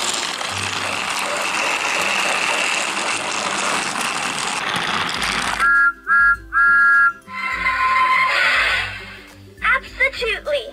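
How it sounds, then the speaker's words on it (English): A motorized Thomas toy train starts moving with a whirring mechanical drive, then gives short electronic whistle tones and sound effects in quick bursts, close and fairly loud, with talk in the background. "He also makes noises whenever he starts and stops moving."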